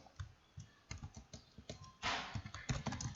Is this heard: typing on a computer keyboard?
yes